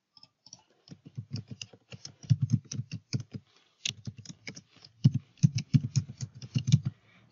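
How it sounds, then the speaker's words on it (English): Computer keyboard typing an email address: a close, brisk series of key taps in two rapid bursts separated by a short pause, with no voices. "Type in your email address in here."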